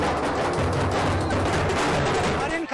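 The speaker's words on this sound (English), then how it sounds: "Shah Rukh's fans welcomed him with drumbeats and fireworks." Fans set off fireworks outside a celebrity's home, producing a dense, continuous crackle of rapid bangs. The crackling stays loud and busy with no gaps, over a noisy crowd.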